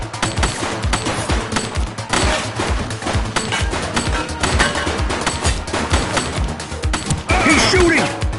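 Gunfire in The Precinct, a police video game set on city streets: dense, rapid volleys of loud shots continuing throughout with crashing impacts and game sounds mixed in.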